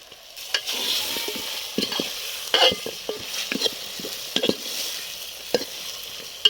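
Kashmiri chillies and whole garlic frying in hot oil while being stirred, a steady sizzle broken by repeated scraping clicks of the spatula against the pan, close and fairly loud with no talking.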